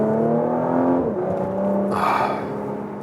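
A 2022 Porsche Macan GTS facelift's V6 engine revs up close, its note climbing and then dropping back as the throttle is blipped, heard on its own with no talk.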